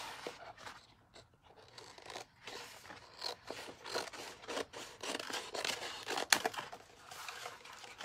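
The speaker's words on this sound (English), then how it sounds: "And I'm going to cut the vinyl." Scissors snip and crunch through a stiff vinyl sheet in a series of close, uneven cuts, with faint crinkling between strokes.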